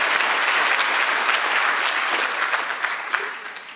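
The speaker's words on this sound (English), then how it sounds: "please give them a round of applause" Dense, sustained applause from an audience at a university ceremony, a thick wash of many hands clapping that gradually thins and softens toward the end.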